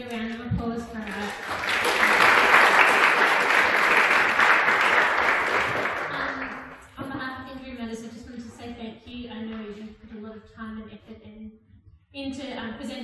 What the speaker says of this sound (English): Can I get a round of applause for her?